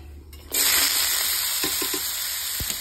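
Bitter gourd and potato hit hot oil in a pan, bursting into a loud, steady sizzle that continues with a few clinks of stirring close by.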